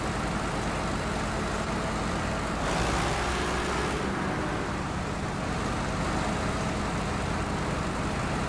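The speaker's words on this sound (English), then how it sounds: "Oh, that's that engine noise." Truck engine in the SnowRunner video game, a dense steady roar with broadband rumble that swells slightly partway through, loud and continuous without speech.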